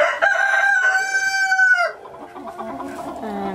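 A Silkie hen, apparently laying, gives a loud, drawn-out vocal call close by for about two seconds, then drops into softer, scattered clucking and rustling.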